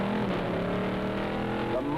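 A Studebaker Avanti stock car racing at record speed on a speed run, its engine a steady, loud, high-pitched roar that stays close and constant with a slight rise in pitch near the end.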